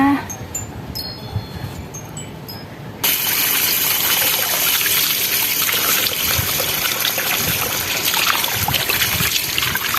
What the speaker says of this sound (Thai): ล้างเอาเมือกออกให้หมดนะคะ ล้างเมือกที่มันจะทำให้คันระคายผิว